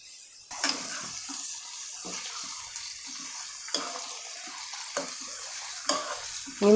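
Chicken frying with onions in a pan for Mangalore-style coconut milk chicken curry, with a steady sizzle and stirring scrapes recurring every second or so, close and alone without talk.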